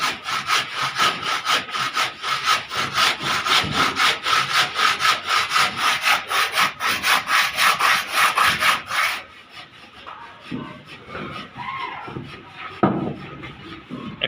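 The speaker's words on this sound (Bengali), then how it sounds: "ব্লক কাটছে আমাদের আরিতে" A hand saw cuts through a block with fast, rhythmic back-and-forth rasping strokes, loud and close for about nine seconds, then stops. Quieter handling noises and faint voices follow.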